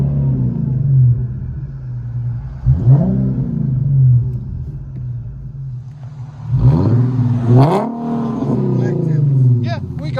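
A 2015 Infiniti Q50 AWD with a 3.7L V6 and dual exhaust with muffler delete, loud and close: a steady low idle broken by two sharp revs that climb and fall back, with voices talking over it.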